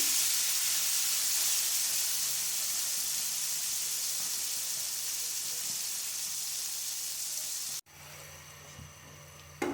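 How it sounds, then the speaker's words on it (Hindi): Marinated chicken hits two tablespoons of hot vegetable oil in a pot, giving a loud, steady hissing sizzle that holds for several seconds before cutting off abruptly. "और इसमें हम मैरिनेट की हुई चिकन डाल देंगे।"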